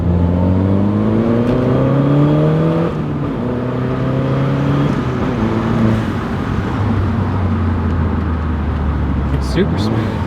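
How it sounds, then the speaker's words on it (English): Car with a two-step launch control and flat-foot-shifting box accelerating hard at wide-open throttle, engine note climbing steadily with brief dips at each shift, loud and continuous throughout. "I'm going to shift and floor it again, and I'm just accelerating as fast as I can"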